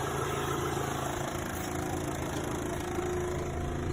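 A 2010 Toyota RAV4 4WD with aftermarket rims idles steadily just after startup, a constant low engine rumble and exhaust drone heard close and alone throughout.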